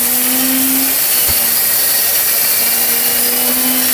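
An electric meat chopper grinder mincing meat, a loud steady motor whir with a sustained tone that briefly dips and returns, running alone without talk.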